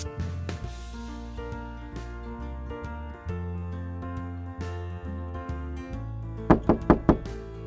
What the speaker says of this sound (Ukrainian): І я буду стукати до вас і говорити, хто я, а ви будете вирішувати, чи можна відкривати двері.